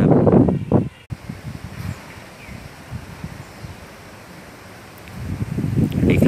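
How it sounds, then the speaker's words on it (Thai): Strong, cold wind gusts through trees with rustling leaves, loud bursts at the start and again near the end and a softer steady whoosh between. "เช้านี้ก็รู้สึกว่าลมแรงพอสมควรฮะเนี่ยลมแรงมากเลย"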